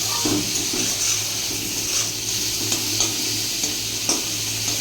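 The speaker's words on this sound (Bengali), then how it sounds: "চিংড়ি মাছ ভাজা বসিয়ে দিয়েছি" Prawns coated in salt and turmeric fry in oil in a kadai with a continuous close sizzle and crackle, plus occasional soft stirring, and no talk throughout.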